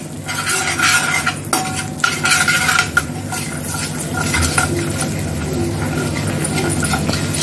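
Besan and cumin roast in oil in a pan, stirred with a spoon that scrapes and clinks against the metal over a soft, continuous sizzle.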